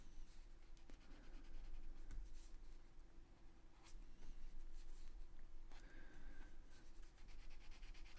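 A Derwent Inktense pencil in teal green is scratched and rubbed across paper in continuous, close, quiet strokes with occasional sharper ticks. No one speaks.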